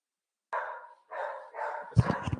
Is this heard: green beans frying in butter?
no